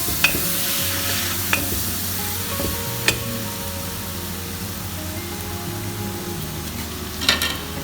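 Mutton and tomato stirred in a pan over a soft continuous sizzle, with a few distinct scrapes and clinks of the spoon, the busiest cluster near the end, and no voices.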